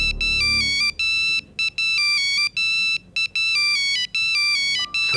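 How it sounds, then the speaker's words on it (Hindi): A phone ringtone repeats an electronic melody in short bursts with brief gaps, loud and close, with no talk over it. "सर शिफाली का फोन है, can I take this call?"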